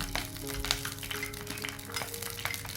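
Whole green chillies sautéing in a pan for a coconut-based fish curry, giving a steady soft sizzle with scattered light crackles and pops, close and continuous, with no talking.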